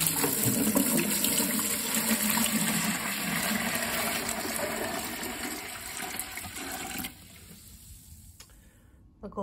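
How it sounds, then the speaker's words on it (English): Water runs steadily into a large Homer bucket for orchid watering, a continuous broadband rushing and splashing at close range that drops away near the end as the flow stops. "I'm going to fill my large Homer bucket today"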